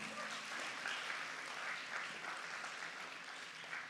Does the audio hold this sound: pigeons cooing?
no